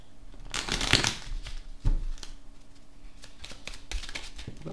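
Oracle cards are shuffled by hand for a card draw, with close, crisp riffling and flicking bursts, the loudest near the start, then lighter repeated shuffles with no talking.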